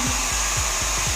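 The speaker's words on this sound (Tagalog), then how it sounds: "Air blower. air blower." A loud, steady electric air blower whooshes continuously, with a faint rhythmic ticking underneath from the motor.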